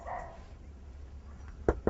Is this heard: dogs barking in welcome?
yes